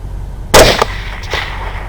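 A single sharp rifle shot fired at a hog outdoors, loud and close, followed by a brief echo rolling back a moment later.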